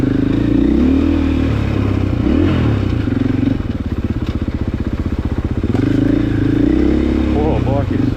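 A KTM 500 motorcycle engine runs steadily and loud throughout on a forest track near old mine sites, with a rhythmic pulsing idle-like throb in the middle and some clatter and scraping over it.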